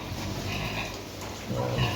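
Pigs on a farm grunt and shuffle softly in a pen, the low snorts quiet against a steady background hum, with a slightly louder grunt near the end.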